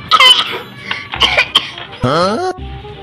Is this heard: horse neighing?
no